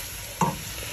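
A spoon stirs and sautés spinach in a hot pan for Peruvian tallarines verdes, making one short scrape and clatter over a steady soft sizzle.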